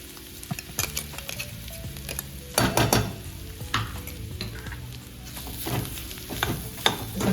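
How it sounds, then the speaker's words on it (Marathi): Ground spice paste sizzles and crackles as it roasts in hot oil for a stuffed brinjal dish, with a spatula stirring and scraping the pan in repeated close, uneven strokes. "आता आपण हा वाटलेला मसाला आहे ना तो त्याच्यामध्ये भाजून घ्यायचं थोडंसं"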